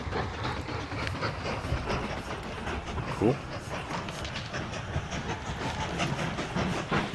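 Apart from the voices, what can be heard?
train running in the video game Mashinky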